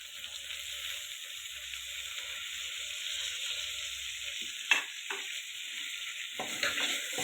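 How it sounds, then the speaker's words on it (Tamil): Mint leaves frying in a pan for ghee rice produce a steady, bright sizzle that holds evenly, followed near the end by a few soft utensil knocks and stirring sounds, close and without talking. "நல்லா ஃப்ரை பண்ணணும்"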